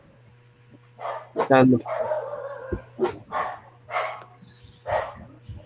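A dog barks repeatedly, roughly six or seven yappy barks spaced about a second apart with a brief whimper, close by and loud, while a person speaks briefly.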